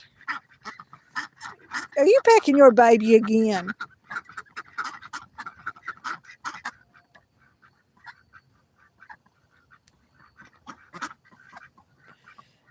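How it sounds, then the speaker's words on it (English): Ducks quack in a loud, wavering burst near the start, then fall to scattered, quieter calls while a person talks over much of the scene. "they're just being very quacky right now"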